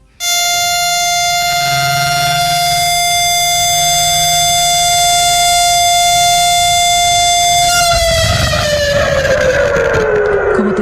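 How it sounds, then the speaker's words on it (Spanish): A memorial siren sounds across Israel on the anniversary of the attack. The single loud, sustained wailing tone holds steady for several seconds, then slides gradually downward, with no voices heard. "cuando hicieron sonar las sirenas para recordar el momento en que comenzó el ataque"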